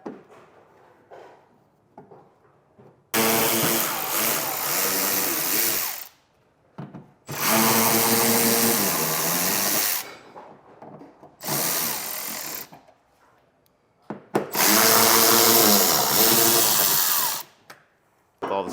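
A power drill with an 8mm socket backs out the wheel well screws on a 2015 Ram truck, whirring close and loud in four long bursts separated by short quiet pauses.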